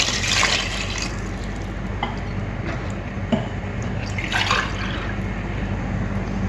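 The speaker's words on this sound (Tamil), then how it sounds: "இப்போ 4 கப்பு தண்ணி ஊற்றியாச்சு." Cups of water are poured into a pot of rice, yogurt and masala chicken for biryani, making soft splashing and trickling bursts over a steady kitchen background.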